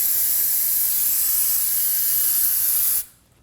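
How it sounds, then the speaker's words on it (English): Brake parts cleaner sprays onto the front brake caliper area of a 2017-2024 Nissan Armada during a brake hose replacement: a loud, close, steady aerosol hiss holds for about three seconds, then cuts off abruptly into near silence. "Now we can go ahead and use some brake parts cleaner and spray the area."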